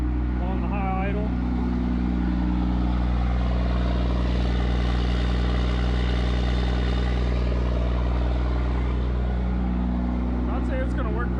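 A 12v Cummins diesel truck engine runs at high idle around 1250 rpm, a constant loud low drone with a steady throb lasting throughout, and someone talks over it at the start and end.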